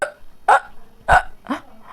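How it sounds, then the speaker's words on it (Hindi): Hiccups from a woman, four or five sharp, close, loud gulping catches spaced about half a second apart, alone with no talking. "हमें हिचकी आ रही है।"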